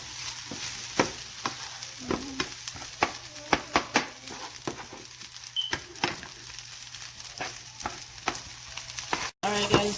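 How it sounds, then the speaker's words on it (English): Shrimp fried rice sizzles steadily in a pan while a utensil stirs it, scraping and clacking in irregular bursts over the continuous frying hiss, with no voices. "Now I'm gonna make sure I stir the rice."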